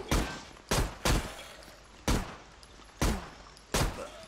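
Six loud, sharp game gunshots ring out from the zombie shooter Zompiercer, spaced irregularly at an abandoned train station, each a sharp broadband crack with a short decay and no voices over them.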